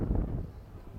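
Wind gusts roar across the microphone at the edge of a huge precipice, a steady low rumble that swells and eases, fairly loud and close, with no voices heard.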